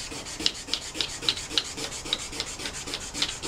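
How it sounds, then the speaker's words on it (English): Metal sanded by hand with 400-grit sandpaper: a quick, steady run of rasping back-and-forth strokes, close and fairly quiet, with no voices. "So I just have some 400 grit sandpaper, and I'm going to go ahead and pre-sand"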